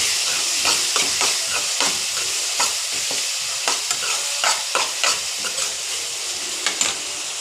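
Onions sauté with salt and turmeric in a pan, a loud continuous sizzle and hiss broken by rhythmic stirring scrapes of a spatula, close and without talk.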